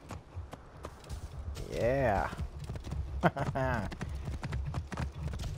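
A horse's hooves clip-clopping in the Assassin's Creed Origins video game, a steady close patter of hoof strikes under a voice and a drawn-out wavering cry.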